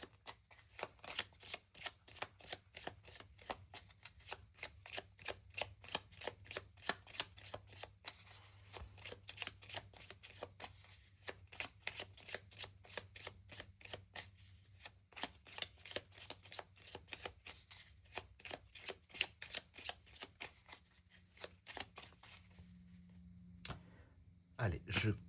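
A tarot card deck is shuffled and cut, giving a long, steady run of rapid riffling card flicks at close range, with no voice over it.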